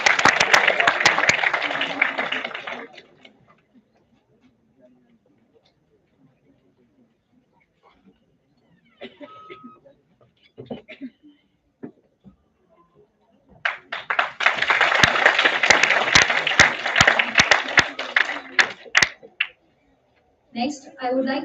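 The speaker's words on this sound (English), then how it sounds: "Let's have a huge round of applause." Audience applause at a seminar, two loud bursts of clapping from a crowd, the first fading out after a few seconds and a second swelling later, separated by a quiet stretch with faint taps and murmurs.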